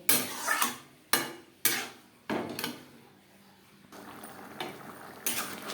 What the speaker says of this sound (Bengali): চিকেনের সাথে সেদ্ধ করা মুগ ডাল বেশ ভালো করে মিক্সড করে দেব